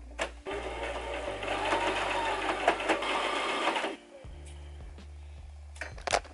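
Sewing machine stitching knit sweater fabric, a close fast steady mechanical whir of the needle for about three and a half seconds, then stopping to a low hum with a few brief clicks and short bursts.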